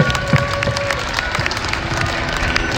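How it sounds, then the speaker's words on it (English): An audience at a rally gives a round of applause, with thick, continuous clapping and some cheering throughout, loud and close with no pauses. "give him a round of applause because he's a really lovely guy"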